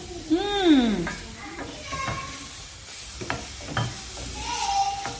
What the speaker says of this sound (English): I'm gonna let it nicely fry itself, cook itself.